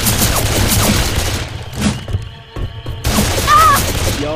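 Loud, close gunfire in the zombie shooter Left 4 Dead 2 on the Swamp Fever level, with rapid shots and thumping blasts, a short lull in the middle, and then another burst of shooting, with a shouted line from a character in between.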